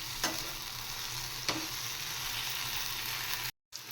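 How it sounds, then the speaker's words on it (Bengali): Okra frying with garlic and chili powder sizzles steadily at a moderate level, with two sharp stirring clacks and a brief dropout near the end. "এবার ভালো করে আর একটু ফ্রাই করে নেব, রসুনের কাঁচা সেন্টটা না যাওয়া পর্যন্ত"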